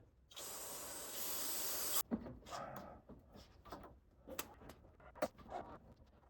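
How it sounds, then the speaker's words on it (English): One long, close hiss of cleaner sprayed onto a microfiber cloth lasts about two seconds, followed by quieter rustling and soft wiping sounds while cleaning a 1998–2002 Toyota Corolla throttle body. "just take this microfiber and spray on top of the microfiber"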